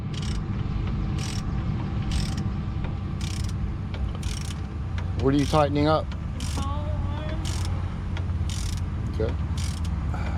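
A hand ratchet tightens a stabilizer link on a car in a rapid, regular series of clicking strokes over steady background noise, with a short spoken word partway through.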